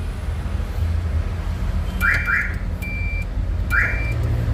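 A Toyota MR2 SW20 car alarm gives short electronic chirps with steady beeping tones in about three bursts over a constant low background hum.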